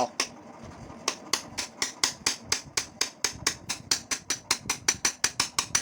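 While a Honda NSR150 engine is assembled, the tight gear shaft is worked into place with a long run of crisp, evenly spaced light clicks or taps, close and steady, about five per second, with no talking.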